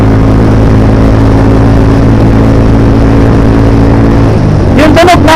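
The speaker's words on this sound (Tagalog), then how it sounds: "Yung tunog ng tambucho niya, parang mas bumilog siya guys." A Mojo 200 motorcycle fitted with a new carburetor, its exhaust a loud steady rumble that drops away near the end, and a person talks over it as it fades.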